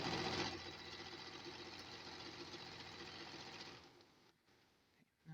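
A sewing machine stitches a quilt block for an Amish squares quilt with a fast, even mechanical whir that runs steadily, then slows and stops, leaving faint handling noise and a brief knock at the end.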